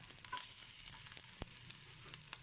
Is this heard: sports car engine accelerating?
no